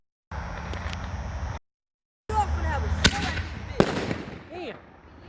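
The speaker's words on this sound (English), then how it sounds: "Okay, we got Bada Bang by Miracle," A Bada Bang canister shell by Miracle Fireworks bursts with sharp loud bangs and crackling after a short gap, several sudden reports close together, with voices talking across the display.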